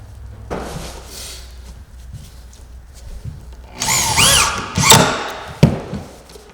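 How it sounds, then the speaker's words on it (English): A screw gun drives screws through a batten bar into a roof curb, with quiet handling noises first, then a few loud, short whirring bursts and sharp knocks toward the end. "Take your screw gun, get it set."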